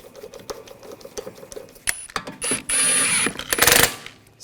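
Ratchet clicking and mechanical tool noise while lug bolts are run in on a BMW X5 wheel, with short bursts of rapid ratcheting, a sustained whirring stretch near the end, close and fairly loud with no talking.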